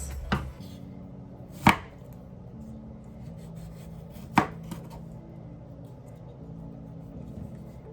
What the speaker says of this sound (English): I will first of all chop the aloe vera into pieces